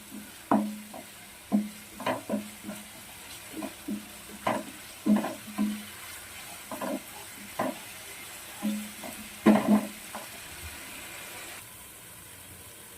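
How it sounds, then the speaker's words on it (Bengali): Chitol fish kalia curry is stirred in a pan, giving a steady series of soft scraping and clattering strokes about every second over a faint sizzle, with no talk. "এবার আমি একটু নাড়াচাড়া করে নেব"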